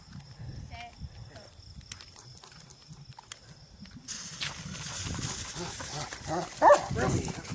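A dog barks outdoors while fireworks are being lit, mixed in with people talking and background clatter, with one louder bark near the end.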